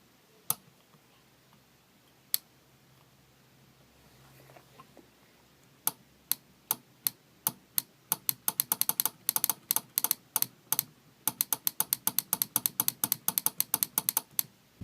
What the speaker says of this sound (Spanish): se escucha un clic cada que nosotros excitamos a la bobina